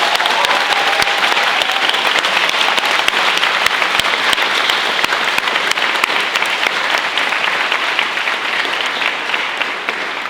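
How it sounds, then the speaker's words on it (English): Sustained audience applause at a university debate society's weekly debate, a dense, loud, even roar of many hands clapping for about ten seconds, tapering slightly at the end. "So we'll give that side a round of applause."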